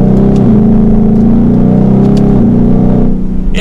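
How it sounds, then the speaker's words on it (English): A 2022 Ford Mustang GT Premium coupe with a manual gearbox accelerates in second gear, its engine giving a loud, steady droning growl that holds strong, with small pitch shifts, before easing off near the end. "Do a quick acceleration and then we'll switch to POV. So we'll go to second gear."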